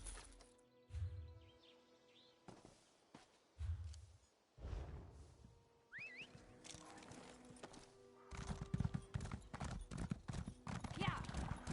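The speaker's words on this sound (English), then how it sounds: "We cannot teach horses to run faster or fall." Horses in the Elder Scrolls Online video game gallop with quick clip-clop hoofbeats in short bursts, then a sustained, louder run of hooves, with a neigh or whinny and faint bird calls amid the game's ambience.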